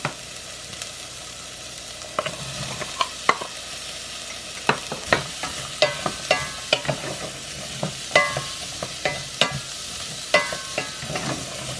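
Celery, carrots and garlic sizzle in a pan over softened onions for butter bean soup. The sizzle is soft and steady, and repeated scraping stir strokes sound up close.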